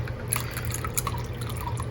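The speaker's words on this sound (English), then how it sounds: "pour all that into a bowl" Melted butter and meat juices trickle and drip steadily into a bowl, a soft continuous pouring with small splashes, close by and fairly quiet.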